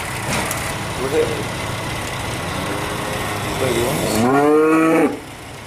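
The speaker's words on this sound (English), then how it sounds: "Big old cows." Big cows in a barn in a farmyard give two or three loud, close moos, the last long and drawn out, over a steady background rumble with brief talk.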